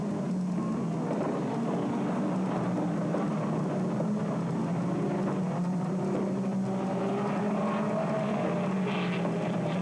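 360 sprint cars and midget race cars, one with a Cosworth engine, race at Willamette Speedway in 1988, their engines blending into a continuous roaring drone that rises and falls slightly as they circle the track.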